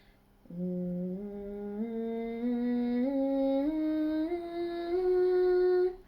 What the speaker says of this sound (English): you can try and do these scales on an NG sound